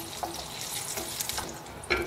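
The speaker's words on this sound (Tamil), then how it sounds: "இப்போ உளுத்தம்பருப்பு போடலாம். அது செவக்க வறுக்கணும். நம்ம இதுலேயே சிகப்பு மிளகா போட்டுக்கலாம்." Red chillies and urad dal frying in hot oil, a soft steady sizzle and crackle close by, faint and even with a few small pops.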